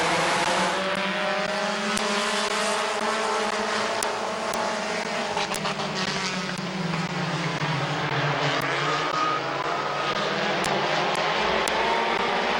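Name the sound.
compact race cars racing on a speedway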